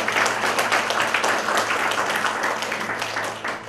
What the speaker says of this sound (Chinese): 让我们以掌声送给姚先生的太太